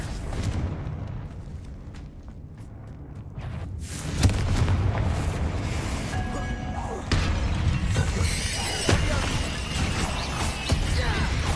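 Several Confringo fire spells blast in Hogwarts Legacy. Loud booms and shattering crashes arrive in bursts over a continuous rumbling bed, with sharp cracks and debris-like rattles layered throughout.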